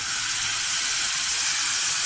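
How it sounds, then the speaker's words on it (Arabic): Water poured into a pan of rice coated in hot ghee and oil, sending up a loud, steady, close sizzling hiss that fills the whole moment without a break. "هحط له بقى شويه ميه"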